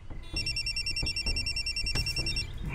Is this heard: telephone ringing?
yes